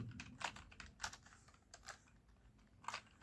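Keys clatter on a computer keyboard during Hindi typing in the Kruti Dev font, quiet irregular taps and short bursts close by.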